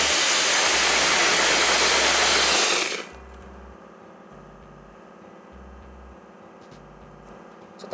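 Dry ice blasting machine cleaning a Honda Super Cub motorcycle: a loud, broad blasting hiss for about three seconds that cuts off abruptly, leaving a quieter mechanical hum with faint rhythmic thumps behind it.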